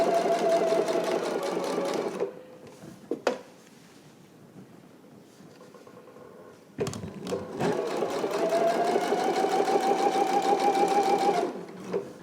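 A sewing machine runs in two steady bursts while understitching a facing seam, pausing for about four seconds in between, with close, continuous whirring and no talk.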